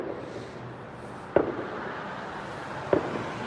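Two sharp residential firework bangs, a couple of seconds apart and somewhat distant, pop over a low steady background hum on a July 4th night.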